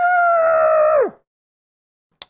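A voice imitates an awful, almighty scream, a loud sustained howling wail that holds steady then drops sharply in pitch and cuts off, followed by silence and a faint click.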